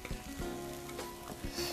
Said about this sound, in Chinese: 在盛它的时候还能听到锅中滋滋啦啦的那种油和辣椒一起发出的声音哈。